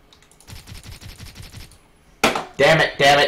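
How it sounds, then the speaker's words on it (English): Rapid gunfire from the first-person shooter Blockade 3D, a string of quick bursts, followed by louder, closer blasts toward the end. "Who's shooting me?"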